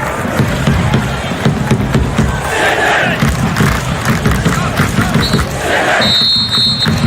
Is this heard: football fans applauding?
yes